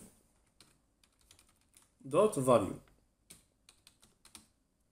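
Sparse, light keystrokes of code typed on a computer keyboard tap out one at a time, broken by a short stretch of a person talking in the middle.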